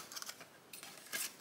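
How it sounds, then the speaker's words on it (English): Big scissors snip through a paper doughnut box in a few crisp, close cuts, with a louder stroke near the end and no voices. "we're also going to cut this off too, so let me grab my big scissors"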